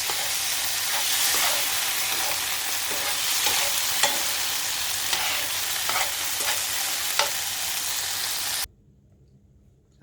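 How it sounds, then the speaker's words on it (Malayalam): Prawns (chemmeen) fry in a hot pan with a loud, continuous sizzle and occasional crackles and stirring scrapes, close up, before the sound cuts off abruptly near the end. "അപ്പം നമുക്കിത് പൊരിച്ചെടുക്കാം. അപ്പം അതെ നമ്മുടെ ചെമ്മീന് ആയിക്കൊണ്ടിരിക്കുന്നുണ്ട്."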